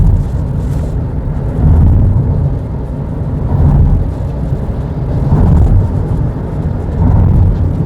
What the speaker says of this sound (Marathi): प्रचंड ट्रॅफिक आहे.